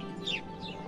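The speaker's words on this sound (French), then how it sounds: "Lui, c'est le moineau domestique." A house sparrow in Berlin gives a couple of short, bright chirps, heard fairly close against a faint background hum.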